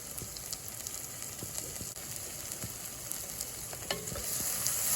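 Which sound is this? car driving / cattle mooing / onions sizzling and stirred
onions sizzling and stirred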